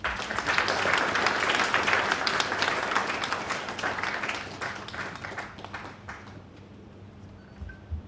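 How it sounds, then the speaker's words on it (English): An audience at a public service reform launch event applauds in a dense round of clapping that is loudest at first and gradually thins and fades over about eight seconds. "He is Ambassador Suleiman Bidarami, with a resounding round of applause."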